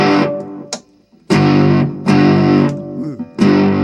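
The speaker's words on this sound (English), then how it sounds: "Distorted rock and roll guitar." Distorted rock and roll electric guitar played in bursts of crunchy, sustained chords separated by short pauses, loud and alone.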